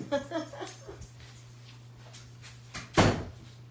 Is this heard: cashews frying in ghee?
no